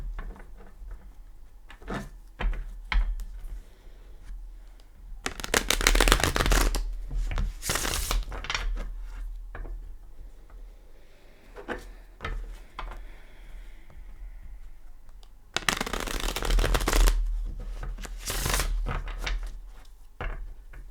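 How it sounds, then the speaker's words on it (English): Tarot cards being shuffled by hand, bursts of riffling and flapping cards in two longer loud spells separated by softer handling taps and rustles, close by with no talking. "I just want to give these a good shuffle."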